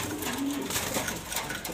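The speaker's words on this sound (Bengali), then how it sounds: "এই যে দুইটা কবুতর আছে" Two young pigeons for sale coo softly, a low murmuring coo standing out briefly amid quiet background noise, no talk.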